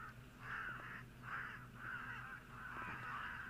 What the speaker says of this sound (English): So we really do have quite a chorus of crows this afternoon